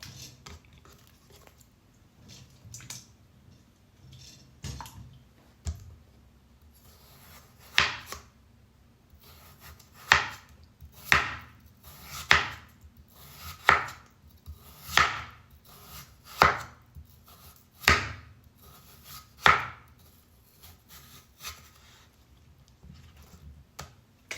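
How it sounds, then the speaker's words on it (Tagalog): A knife cuts potatoes into rounds on a cutting board, sparse taps at first, then a steady run of about ten crisp, evenly spaced chops. "naghihiwa na po ako ng mga potatoes"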